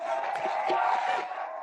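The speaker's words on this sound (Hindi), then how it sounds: "एक बार जोरदार तालियां हो जाए सिद्धू बाजी और नवजोत भाभी के लिए।" An event crowd roars with dense, sustained cheering and shouting for an arriving couple, loud and continuous for under two seconds.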